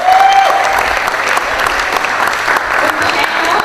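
Audience applause at an appreciation event for staff: dense, steady clapping from a crowd, loud and close throughout, with a faint voice briefly audible over it at the start.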